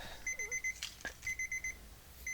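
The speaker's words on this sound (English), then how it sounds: "That's my alarm." An alarm goes off with a rapid run of short, high, evenly spaced electronic beeps in bursts, separated by brief pauses. It is fairly faint, and there are small background noises but no talking.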